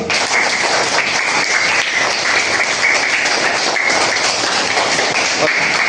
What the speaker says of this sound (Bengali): ওর জন্য সবাই একটা হাততালি দাও